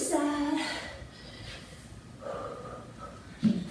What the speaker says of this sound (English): having a hard time breathing myself here